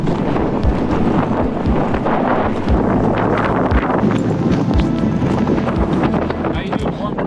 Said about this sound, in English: the wind really started to pick up